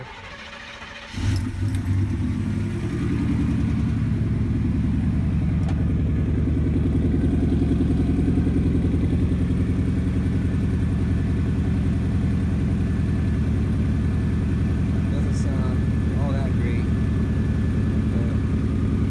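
A 1989 GMC K1500 pickup with a throttle-body-injected engine idles steadily through a cheap aftermarket exhaust, a low, continuous rumble that starts abruptly after a second and runs on unchanged, loud and close, with no talk over it.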